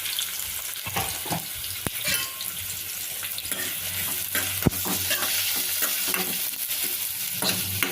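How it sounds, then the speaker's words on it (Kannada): Onions and green chillies frying in a pan, a steady close sizzle broken by the clatter and scrape of a spoon stirring, continuous throughout with no talking. "ಈಗ ಉಳ್ಳಾಗಡ್ಡಿ ಹಾಕ್ಕೊತೀನಿ. ಉಳ್ಳಾಗಡ್ಡಿ ಮೆಣಸಿನ್ಕಾಯಿ 2 ಕೂಡ ಹಾಕ್ಕೊತೀನಿ."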